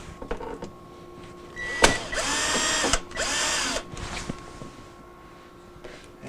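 Power drill driving a screw into an evaporator bracket inside a Sub-Zero refrigerator during a not-cooling repair, a loud whirring burst of about two seconds, a short pause, then a second run and a few brief trailing blips.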